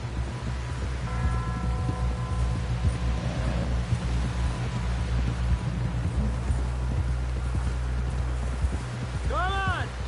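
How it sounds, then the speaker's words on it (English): Horse hooves clip-clopping at a steady run in Red Dead Redemption 2, held under a constant bed of game music and ambience, with brief spoken dialogue. "Someone help John down off this horse."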